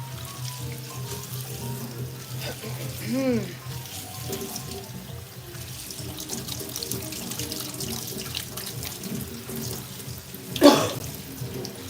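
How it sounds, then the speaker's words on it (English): Cold tap water runs steadily into a kitchen sink as cooked pasta is rinsed in a strainer, a continuous splashing stream with a brief louder burst near the end. "when you shock it in cold water, you could do ice water too"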